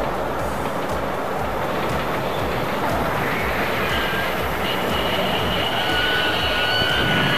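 Subway train running with a loud, steady rumbling roar and grinding rail noise, with thin metallic squeals rising in the later part.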